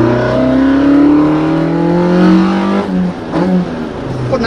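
A Toyota AE86 Trueno with individual throttle bodies and a high-lift cam revs loudly from inside the car, its engine note climbing steadily in pitch, then dropping as the throttle lifts before blipping again.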